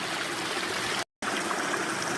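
A small brook tumbling over little cascades through woodland in Ram's Clough in the Peak District, low after little rain, giving a steady close bubbling rush broken by a short silent gap.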